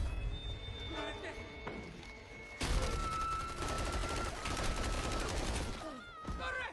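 Gunfire from a Mexican special forces action film, a dense fusillade of shots erupting suddenly and continuing under a layered score and sound effects, loud and close throughout.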